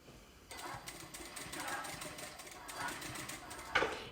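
A sewing machine runs steadily while stitching a balaclava seam, a quiet continuous mechanical whir with light rapid ticking after a short silence, ending with a small clack; faint and close, with no speech.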